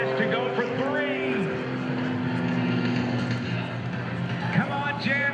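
Propeller engine of an aerobatic airplane flown by Jan Collmer at the 2012 Blue Angels Homecoming Airshow, NAS Pensacola, droning steadily and loudly with shifting pitch through a maneuver, under an announcer's voice.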